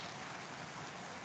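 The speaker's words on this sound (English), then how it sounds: "there is heavy rain and that is the external noise" Heavy rain falls outside, a dense, even hiss of downpour that holds steady without a break, heard faintly and alone.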